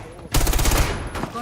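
A short, loud burst of rapid automatic gunfire in the tactical shooter Rainbow Six Siege, roughly half a second of fast repeated shots followed by a fainter trailing shot.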